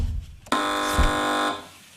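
A single loud game show buzzer on the panel show Have I Got News For You blares for about a second, a harsh electronic tone that cuts off abruptly.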